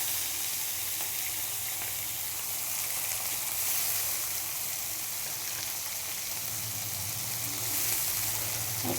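Tomato fries in oil in a wok, making a constant, dense sizzle that stays close and even for the whole stretch, with no voices.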